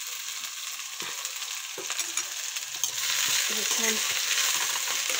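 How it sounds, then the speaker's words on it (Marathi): Green onions, stalks and leafy tops, are sautéed in oil in a pan over a low flame with a soft continuous sizzle, and a spatula scrapes and clicks as they are stirred. Frying grows slightly louder partway through, and a voice briefly speaks. "कमी आचेवर छान परतून घेऊ।"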